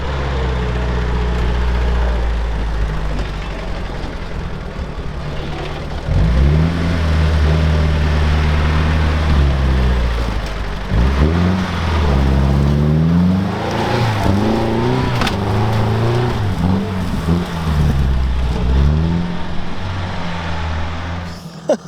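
A UAZ off-road vehicle climbs back up a slope, its engine revving and labouring loudly with rising and falling pitch swells, close and continuous with no talk.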